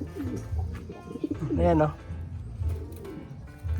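A young pigeon coos in soft, throaty rolling bursts close by, while someone talks quietly over and between the calls.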